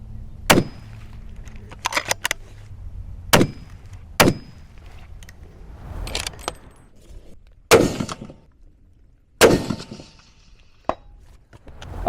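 Ruger and Mossberg Patriot rifles fire at a target 975 yards out, several sharp, loud reports spaced a few seconds apart with quiet gaps and faint clatter between shots.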